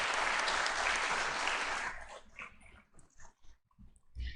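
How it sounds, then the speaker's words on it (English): An audience fills a university law auditorium in Chandigarh with dense, sustained applause for about two seconds, then the clapping cuts off into quiet room sounds and scattered noises. "round of applause, please."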